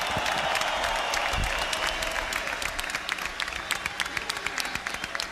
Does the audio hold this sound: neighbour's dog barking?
no